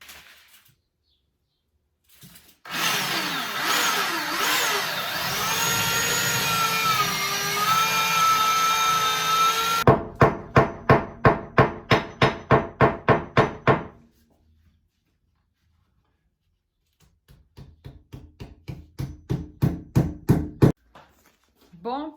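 A power drill bores holes in a wall, a long whining run followed by a series of regular rhythmic knocking bursts, with pauses and a second burst of rapid impacts, loud and close with no talk.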